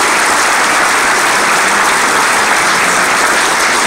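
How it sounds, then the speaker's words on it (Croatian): Dense, loud applause fills a hall at a political party anniversary celebration, a continuous even clatter of many hands clapping with no pause. "Ovo ulazi jedan mali aplauz za ohrabrenje"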